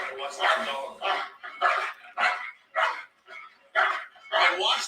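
A dog barks repeatedly in close, loud bursts, about eight rhythmic woofs separated by brief pauses, with no talking over it.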